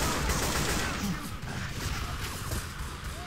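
Rapid gunfire in Left 4 Dead 2, a dense and loud burst of shots and clattering impacts packed closely together over the full stretch, with a faint voice underneath.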